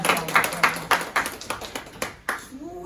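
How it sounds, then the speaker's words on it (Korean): Scattered clapping in a church congregation welcoming a missionary, a handful of distinct, roughly rhythmic hand claps at close range that thin out toward the end, with no talk over them. "우리 박수로 한번 청해 드리려고 합니다."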